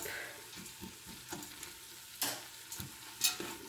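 Lentils sizzle in a soup pot with sweated vegetables such as onions and garlic, a steady frying hiss broken by scraping stirs of a spoon, with no talk.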